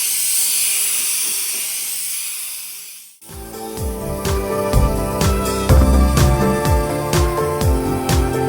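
A handheld steamer blasts hot steam onto the glue of an old vehicle wrap being removed, a loud, close, continuous hiss that cuts off abruptly after about three seconds, followed by sharp knocking and clattering sounds.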